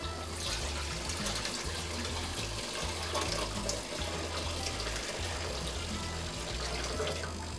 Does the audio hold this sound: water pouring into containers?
yes